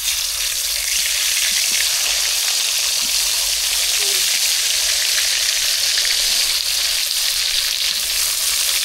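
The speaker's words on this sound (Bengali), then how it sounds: "এখন তেলে বেগুন ভাজবো" Eggplant sizzling and frying in hot oil, a steady dense crackle and hiss that holds evenly at close range the whole time.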